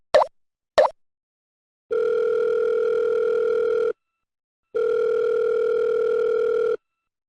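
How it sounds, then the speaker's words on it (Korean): Telephone line tone during a phone call: two faint clicks, then two long steady beeps of about two seconds each, separated by a short silence, clear and close with no voices. "전화 통화."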